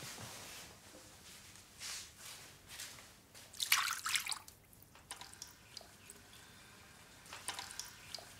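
Water trickles and splashes in a basin with intermittent swishes and drips, fairly quiet and close, no voices.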